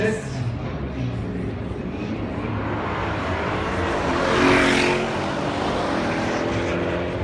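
An Audi RS6 accelerates hard in a sprint race at Slovakia Ring, its engine a loud, steady roar that swells as the car passes close by, with voices mixed underneath.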